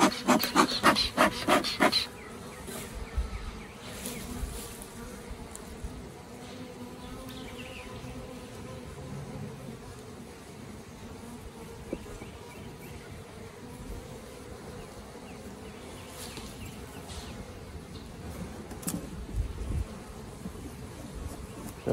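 Honeybees hum in a steady, close drone during a natural beekeeping hive inspection, with brief rubbing and scraping of wooden hive parts at the start and scattered knocks throughout.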